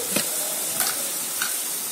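Green chillies and chilli powder sautéing in a pan for chana masala, with a steady frying sizzle and a few soft stirring scrapes, close by and alone without voices.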